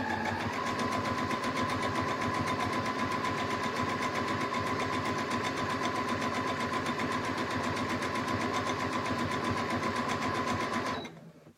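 A sewing machine runs a zigzag stitch along the folded edge of a pillowcase, one continuous, loud, close mechanical whir with a steady rapid rhythm for about eleven seconds before stopping abruptly, with no talking.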